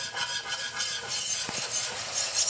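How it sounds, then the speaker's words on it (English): A whisk scraping and stirring in a pan of roux as whole milk is poured in for béchamel sauce, with quick rhythmic close scrapes and soft splashes throughout. "While I whisk this, I'm going to whisk this while I pour it in."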